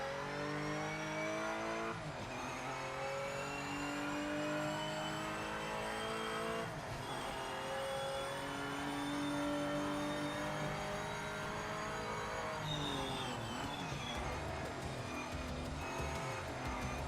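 A Porsche race car engine in Project Motor Racing screams steadily through the gears, its pitch climbing and dropping at each shift, loud and close for the whole run.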